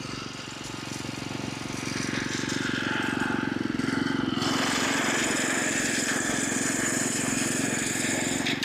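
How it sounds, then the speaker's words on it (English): A lawn mower engine runs steadily while cutting a putting green, a loud, constant droning rumble with a rough, gritty edge that brightens partway through and carries on without pause. "I thought I was mowing."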